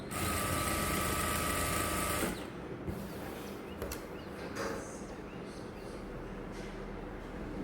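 A sewing machine stitches a saree hem folded half an inch in and one inch over, running steadily and loud for about two seconds before stopping, then a quieter room hum.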